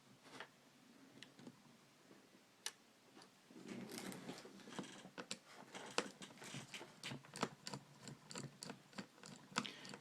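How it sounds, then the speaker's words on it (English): A small screwdriver backs screws out of the screen on an Acer Aspire D257 laptop. The light ticks and clicks are faint and close, and they come in scattered bursts that grow busier partway through. "It's a small screwdriver. I'm going to take these two screws off."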